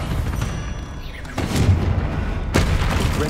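A Confringo fire spell in Hogwarts Legacy bursts with a booming blast, followed by a second heavy explosive hit a second later, both loud and close against a rumbling game soundscape.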